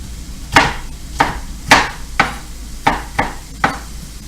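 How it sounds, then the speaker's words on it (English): Knife cutting a bell pepper into long slices for a beef stir fry, giving seven crisp, sharp chops on a board in an irregular rhythm, each one close and distinct with nothing else around it. "go for long slices on the pepper"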